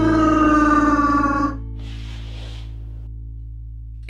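A person imitates a Chewbacca growl, a low throaty voiced roar lasting about a second and a half, followed by a breathy rasp and near silence.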